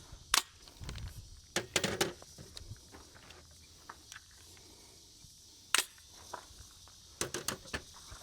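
Sharp gunshots from an AR9 rifle fitted with a vertical compensator, fired at a range: a few spaced single shots and quick pairs, loud and cracking against a quiet background.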